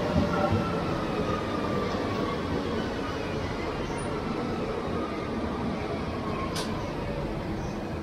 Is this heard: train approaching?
yes